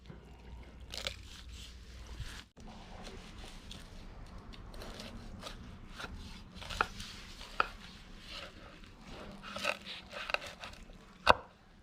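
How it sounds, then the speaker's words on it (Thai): A knife cuts crispy rolled pork chashu on a cutting board in a kitchen, giving a series of crunchy chops and taps at an uneven pace, with one sharp knock near the end. "ขั้นตอนนี้มาหั่น หมูกรอบชาชูของเราเป็นท่อนๆเลยครับ"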